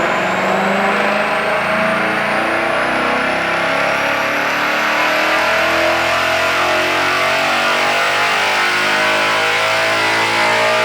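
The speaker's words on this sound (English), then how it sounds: "We're going to be doing some dyno testing on our 2024 Mustang GT." A stock 2024 Ford Mustang GT V8 roars steadily on a dyno at Palm Beach Dyno, the engine note climbing continuously through a long high-rpm pull, loud and close with no talk.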